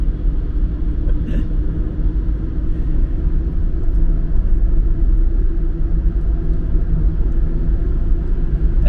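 Inside a car driving on a road through Stamford, on the way to New York, a steady, loud low rumble of engine and road noise continues throughout without talking.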